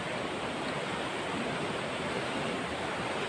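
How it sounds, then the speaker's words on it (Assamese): Floodwater of the swollen Pagladiya river rushes past in a continuous, even roar of broadband noise with no pauses and no voices. "নদীৰ পানী"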